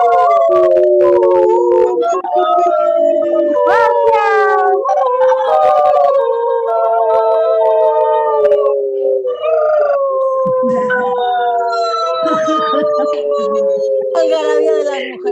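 A group of women imitate wolves, howling together in long, loud, overlapping wails that rise and fall without pause for about fifteen seconds.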